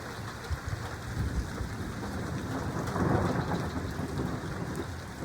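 Steady heavy rain pours during a severe thunderstorm with damaging winds, a dense continuous hiss of drops hitting surfaces that swells slightly louder midway, with no voices.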